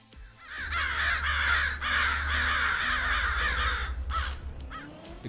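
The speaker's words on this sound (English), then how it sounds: "The crows agree." Crows caw loudly and close in a string of harsh, rasping calls for about four seconds, alone with no talk, ending in a few brief squawks.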